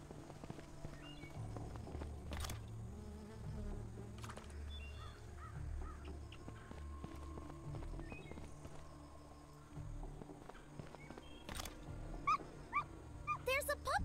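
A puppy in a zombie-survival video game, small yips and barks mixed in with bird caws and clopping footsteps over a steady game ambience, with brief sharp cries near the end.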